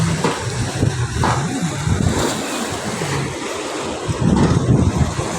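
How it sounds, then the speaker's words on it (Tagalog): Waves wash and surge along Manila Bay in rainy, windy weather, a rushing, uneven churn of water with heavy wind buffeting the microphone and swells building louder near the end. "Alon ngayon mga kapising."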